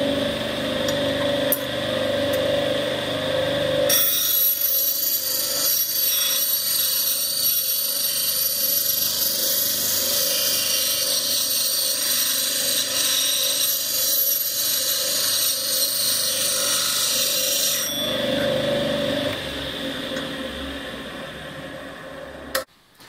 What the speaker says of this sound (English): So is the Coburn the ultimate machine scraper?